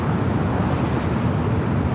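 An airliner takes off from runway 25 right at LAX, a steady broadband roar of jet engines holding even and fairly distant throughout, with no voices.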